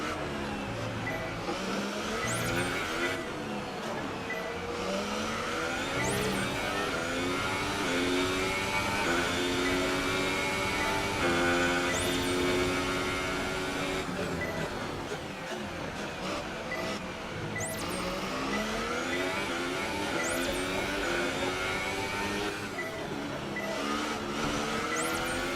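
Car engine in the F1 2018 racing video game idles and revs in neutral, a continuous buzzing drone with rising and falling pitch sweeps throughout, loud and steady with no talk.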